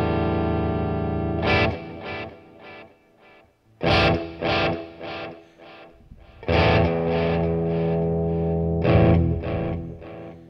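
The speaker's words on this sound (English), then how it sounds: "Let me get the delay up in here." Electric guitar played through a Boss Katana 50 MKII amp with delay engaged, distorted chords and picked notes in bursts with repeating echoes trailing after each phrase, close and fairly loud.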